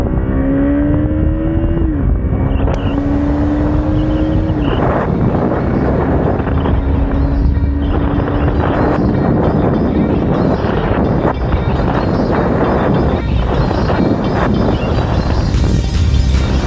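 KTM RC 200 motorcycle accelerating on a highway, its engine whine climbing through the gears under heavy, constant wind roar from riding at speed.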